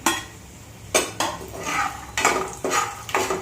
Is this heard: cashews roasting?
yes